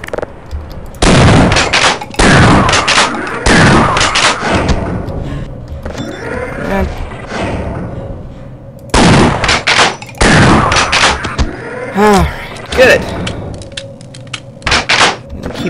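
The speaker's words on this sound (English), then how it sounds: "Trying to use the shotgun for a while because we're bursting with ammo for it." Shotgun blasts ring out in Half-Life, several loud booming shots in two clustered bursts with echoing tails and clanking thuds between them, close and forceful, no talking heard.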